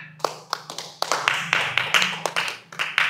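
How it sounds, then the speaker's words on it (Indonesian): Sharp, distinct handclaps from a small group ring out in an uneven rhythm of about a dozen claps, each with a short ring, over a low hum. "Tepuk tangan."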